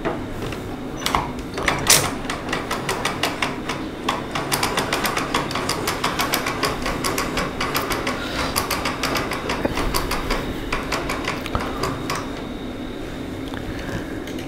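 A mainspring winder, set up with a tightened tailstock, winds a clock mainspring in a steady run of close, loud ratcheting clicks that continue evenly throughout, with no talking.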